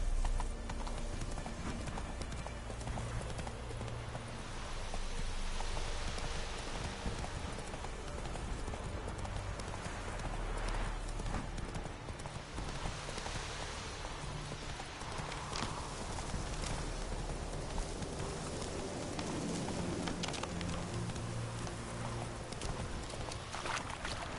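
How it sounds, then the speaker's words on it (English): A horse gallops in The Witcher 3 video game, its hooves beating a continuous, rhythmic clip-clop close by for the whole stretch, with soft ambient game sound underneath and no voices. "Go, go. Run, Roach."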